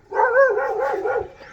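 A single dog gives a drawn-out, wavering bark-howl while chasing off a crocodile outdoors, loud and close, lasting over a second with no talking.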